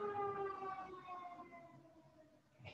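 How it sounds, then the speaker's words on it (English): City sirens wail in repeated rising and falling sweeps, starting fairly loud and fading slowly as they pass into the distance, with no talk over them. "Part of being in the city, we got some sirens going."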